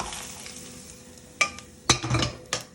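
Rice being stirred in an oily frying pan with a sizzle underneath, a few sharp scraping clinks of the spoon against the pan near the end.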